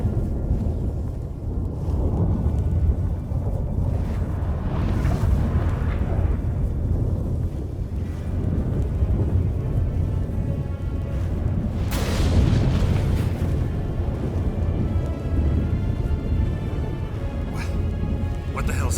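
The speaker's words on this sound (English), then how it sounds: "That a storm?" A storm rumbles and booms in The Witcher 3 video game, with deep thunder and wind roaring continuously and heavier swells midway, while people talk over it.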